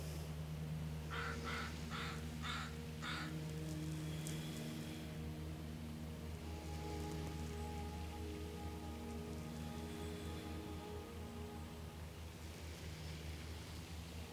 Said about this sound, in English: a noisy crow